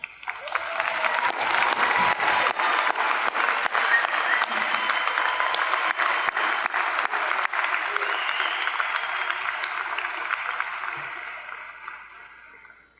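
A university winter commencement audience applauds in a long, dense wash of clapping that holds steady for about twelve seconds before fading out.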